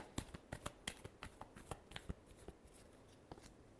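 Tarot cards shuffled by hand, a quick run of crisp flicking riffles and soft slaps, close and fairly quiet, irregular in rhythm and alone.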